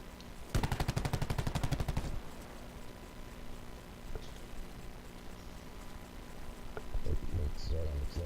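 Automatic gunfire in Call of Duty Black Ops 4 during a 2v2 LAN esports match, a loud rapid burst of about a second and a half followed by quieter game ambience and a few later shots under commentary.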